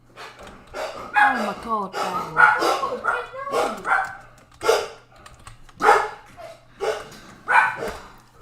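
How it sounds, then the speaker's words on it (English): Dogs, including a large one, bark in loud, repeated bursts indoors, each sharp woof separated by short pauses, while a person briefly exclaims between them. "So the dogs have just kicked off."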